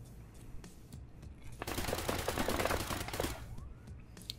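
Rapid machine-gun bursts rattle in the Escape From Tarkov video game, a dense burst of rapid shots swelling loud in the middle then tailing off, with quieter ambience before and after.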